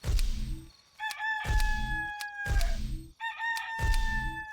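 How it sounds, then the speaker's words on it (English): A rooster crows at sunrise in the video game Black & White 2. Loud, repeated cock-a-doodle-doo calls follow one another with little pause, mixed with low thumping noise. "Roosters always crow when the sun comes up"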